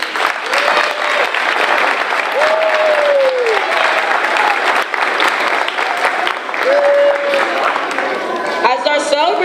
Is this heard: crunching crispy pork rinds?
no